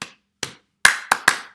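Hands clap a rhythm for a clap-back music game: five crisp, close claps, two spaced apart and then three in quicker succession, heard alone.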